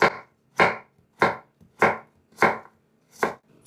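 A knife chops thin slices on a cutting board: six crisp, evenly spaced cuts at a steady pace, close and loud with no voices.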